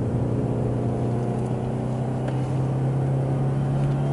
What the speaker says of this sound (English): Brake, downshift, heel toe, and off I go